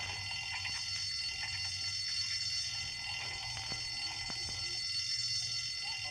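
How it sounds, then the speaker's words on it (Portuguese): An alarm in the video game Bully Anniversary Edition rings continuously as a faint, steady high-pitched bell-like tone over low background hum, with scattered soft clicks. "Ativou o alarme pra entrar."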